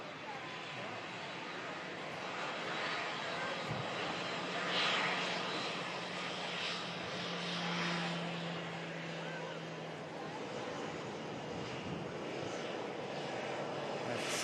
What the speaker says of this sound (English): Should just be enough time for the bizjet to cross, which it is doing now